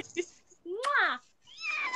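A domestic cat at home gives two drawn-out, rising-and-falling meows close to the microphone, with a short chirp just before and a faint voice nearby.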